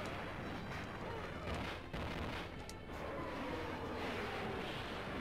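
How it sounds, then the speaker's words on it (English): A dense rumbling blast from a bomb in the Wii fighting game Samurai Shodown, filling the mix with a sustained roar of low booms and crackle at moderate level. "You walked onto the bomb and you paid the price."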